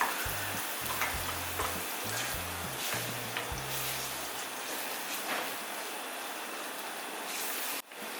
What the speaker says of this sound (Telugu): ఇలా పచ్చిదనం పోయేంత వరకు పేస్ట్ని వేయించుకోవాలి